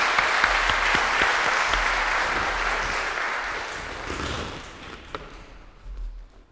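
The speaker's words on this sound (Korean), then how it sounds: "우리 다 같이 환영하는 박수" A church congregation at a Parents' Sunday service gives a warm round of welcoming applause, loud and full at first, then gradually tapering off into a few lingering claps and soft thumps.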